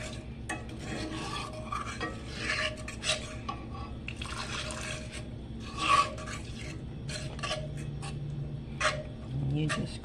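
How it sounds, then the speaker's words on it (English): Country chicken gravy is stirred in a pan over medium-low heat, with rhythmic raspy scraping of the utensil across the pan and soft bubbling between strokes. "you just gradually let it continue to cook on medium low as you stir"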